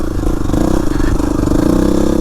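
A Yamaha WR250R motorcycle engine lugs uphill in second gear, a loud, steady, low chugging drone with rattling clatter throughout and no talking.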